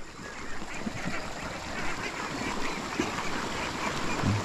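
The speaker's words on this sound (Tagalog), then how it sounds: "Naliligo na yung mga alaga natin ditong bibi guys." Pet ducks quacking while bathing, repeated quacks from several birds over a steady wash of splashing water and background noise, close and fairly loud, with no voice.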